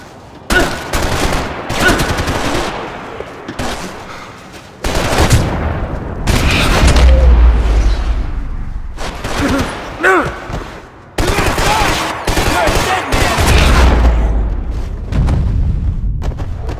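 Gunfire in the video game Max Payne 3: bursts of automatic fire and heavy booms come in loud clusters separated by short lulls, with voices talking between the shots.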